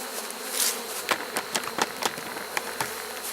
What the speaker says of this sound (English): There is a ton of bee activity out here.